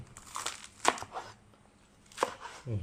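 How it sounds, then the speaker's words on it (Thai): A knife chops through vegetables for a Thai mixed vegetable soup on a board in a few distinct crisp strokes, separated by quieter rustling and handling noises. "ในส่วนของผักนะก็หั่นไปเลย"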